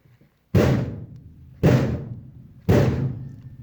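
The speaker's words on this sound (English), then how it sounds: "Boom! They knocked again." Three heavy booming knocks land on a door at about one-second intervals, each a loud deep thud with a ringing decay, staged as a sound effect in a spoken story reading.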